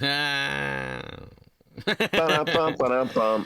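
A voice imitates a fart, producing a drawn-out buzzy tone that falls off, then breaks into bursts of vocal noise and laughter, close and loud.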